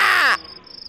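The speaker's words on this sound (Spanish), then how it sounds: "hay un pájaro ahí" A single harsh crow caw in a video game, loud and close, lasting under half a second, then a faint high tone rings on in near-silence.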